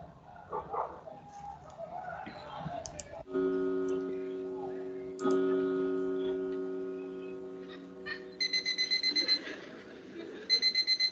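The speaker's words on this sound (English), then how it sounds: "That is the alarm." An alarm clock rings with sustained electronic tones that start, pause and restart, then switch to rapid repeated high beeping pulses near the end, loud and close with no talk over it.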